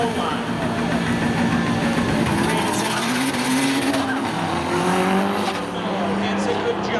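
Race cars launch side by side in a spectator drag race at Seekonk Speedway, engines roaring and rising in pitch with tire squeal, loud and continuous, with a crowd or announcer voice blended faintly underneath.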